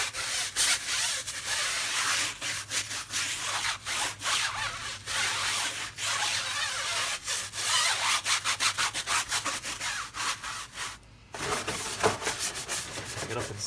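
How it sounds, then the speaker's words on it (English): A stiff brush scrubs a car wheel, tire and inner fender coated in foaming wheel cleaner. The sound is close and continuous, a rhythmic rasping with quick repeated strokes and a short pause near the end. "Give that a little scrub"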